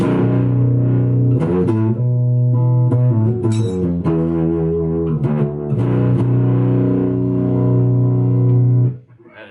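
A low, heavily distorted baritone electric guitar through a tube amp plays sustained growling chords and a few quick riffs, loud and gritty, then cuts off abruptly at the end.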